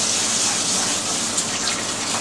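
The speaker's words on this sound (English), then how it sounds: "Bring it over to your sink. Wash it with cold water." Cold tap water gushes steadily into a pot of rice at a sink, a close, loud, unbroken rushing stream with no voices.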